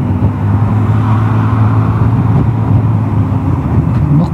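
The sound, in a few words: Vespa GTS 300 scooter accelerating with Tech Pulley variator rollers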